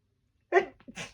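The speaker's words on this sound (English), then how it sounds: "Hang on, I'm going to sneeze." A single sharp sneeze bursts out after a moment of quiet, followed by a short breathy aftersound, close and fairly loud.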